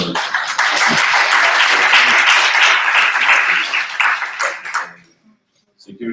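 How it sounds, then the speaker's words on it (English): At a general assembly, an audience applauds a candidate for a vice-president post with loud, dense clapping for about four seconds that then fades out. Speech comes in at the end. "So let's give him a round of applause."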